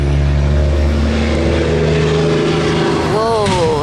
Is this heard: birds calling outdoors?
no